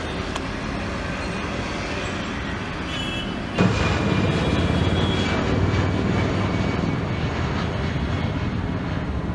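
An airplane flies overhead, a steady broad roar that swells suddenly partway through and stays loud and close to the end, with no talking.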